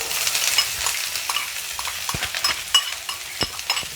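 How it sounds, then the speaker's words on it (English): Onions fry in hot oil with a crisp, close sizzle, with intermittent clinks and scrapes from a utensil stirring the pan. "So our oil is ready. We're gonna put in the onions."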